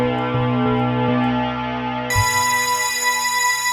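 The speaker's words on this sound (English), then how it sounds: "now here's what this sounds like through Supermassive with FM Zone" An FM Zone synth run through Supermassive reverb gives a sustained, bright tonal pad with bell-like pulses, then shifts into a shimmering, richer chord washed in long reverb, loud and alone.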